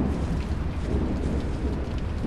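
Steady heavy rain with rumbling thunder fills the scene in the Zoochosis horror zookeeping game, a dense continuous downpour heard alone without voices.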